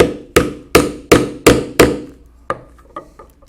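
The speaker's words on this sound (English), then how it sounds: "we will set the rivet" Metal rivet setter struck by a hammer to set a rivet through a leather saddle bag: six sharp, evenly spaced blows close up, then a few lighter taps trailing off.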